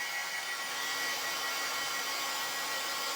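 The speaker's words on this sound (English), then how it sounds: "So we'll just hit it with the dryer." Hot-air dryer blowing steadily to melt paste wax out of a carved piece, a continuous broadband whoosh held at an even level for a few seconds with no talk.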